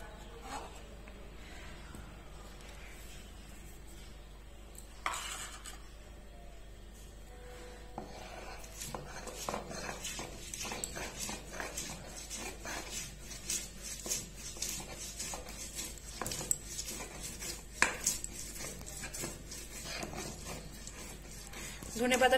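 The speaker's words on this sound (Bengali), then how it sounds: "এরপরে ধনে পাতাটা বেটে নেব।" Coriander leaves being ground into a paste for a Bengali fish curry: repeated rasping, scraping strokes that start quietly and grow steady and rhythmic, fairly close, with faint background sounds.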